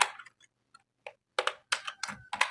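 Keystrokes on a computer keyboard while HTML code is typed, coming as a few sparse clicks and then quicker bursts of close, crisp tapping with short pauses between them.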